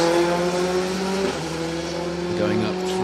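Rally cars at the Cadwell Stages Rally in 2023 rev their engines hard and close by, the engine note shifting as they accelerate through a stage, while a commentator speaks over the engines.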